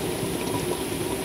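A pot of rice boiling on a home kitchen stove, giving a steady, close bubbling and hissing wash that runs without a break and stays fairly loud throughout.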